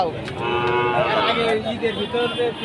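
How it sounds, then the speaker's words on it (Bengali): Large bulls and cattle low in long, loud, close moos at a busy cow market in Rustampur, Rajshahi, with crowd murmur behind them. "এগুলো বড় বড় সার গরু"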